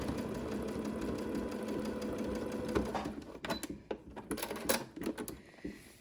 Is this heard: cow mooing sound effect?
no